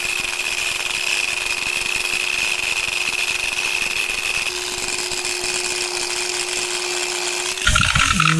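A steady, high-pitched whine of a power tool sanding granite with 320-grit stone sandpaper, running continuously and close, then a brief clunk near the end.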